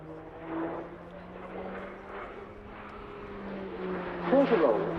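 Slovenian PC-9M Hudournik turboprop flying aerobatics at an air display, a steady droning propeller tone shifting in pitch as it manoeuvres, with a commentator's voice running over it throughout.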